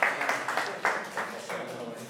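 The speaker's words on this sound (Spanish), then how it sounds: "Un aplauso, un aplauso." Audience applause in a classroom setting, a short round of rhythmic clapping with distinct sharp claps, moderately close, fading slightly toward the end.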